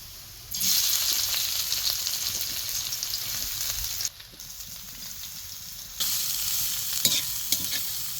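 Bitter gourd frying in hot oil, a loud steady sizzle and hiss close up that briefly drops away midway and then returns strongly, with a few faint clinks and no speech.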